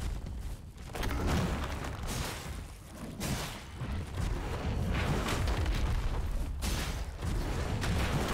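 Fiery roaring breath from the boss Imrod the Unrepentant in Mortal Shell, a sustained rumbling whoosh with booming surges that swells and dips over several seconds, loud and continuous with no talk.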